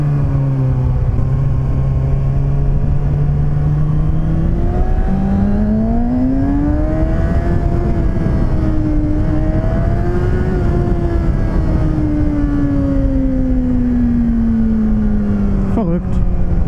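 A Kawasaki Ninja ZX-6R 636 sportbike revving to around 10,000 rpm on a first ride, its high engine whine climbing and wavering under heavy wind roar, recorded close from the rider's position.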